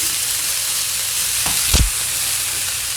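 Food sizzles steadily in a skillet as it is mixed, a soft even frying hiss with one brief scrape or clank of the utensil partway through, close by and without speech.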